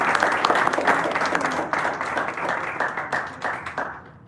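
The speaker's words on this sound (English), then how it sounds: "A big round of applause for our winners and all the participants who did a great job today." An audience at a tall tale speaking contest applauds its winners and participants, a steady close patter of many hands clapping that slowly thins and fades out.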